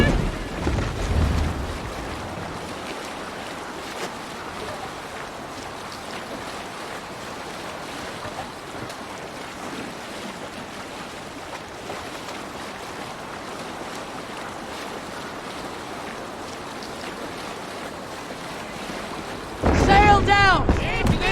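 A sailing longship in Assassin's Creed Valhalla with steady wash of waves and wind along the hull, continuous and moderately loud, ending in a sudden louder splash and rush of water.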